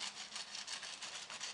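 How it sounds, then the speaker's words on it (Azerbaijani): A knife trims the edges of a delicate cocoa sponge cake in rhythmic back-and-forth sawing strokes, soft and close, with no one speaking. "Sonra isə qıraq hissələrini kəsirəm."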